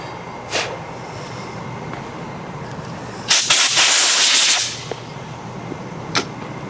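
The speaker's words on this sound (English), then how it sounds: "so we use a steel wool on it and a little compressed air" Compressed air blown onto a wooden tool handle, one loud, close hissing blast lasting just over a second, set apart by a couple of faint clicks before and after in a quiet room.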